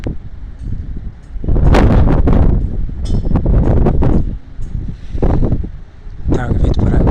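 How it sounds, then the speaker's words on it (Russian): Strong wind in Novorossiysk rushing in loud, gusting bursts that buffet the microphone with a deep roar, swelling and easing several times throughout. "но, как видите, просто сильнее ветер"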